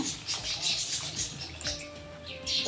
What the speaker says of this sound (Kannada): ಈಗ ನೀರು ಹಾಕ್ಕೊಳ್ಳೋಣ. ಒಂದು 2 ಕಪ್ ನೀರು ಹಾಕ್ಕೊಳ್ಳೋಣ